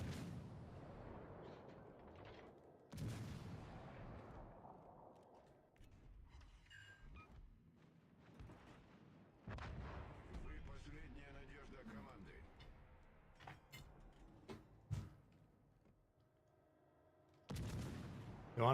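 Gunfire in a video game comes as repeated booming bursts at irregular intervals, some loud and close, mixed with game effects and talk.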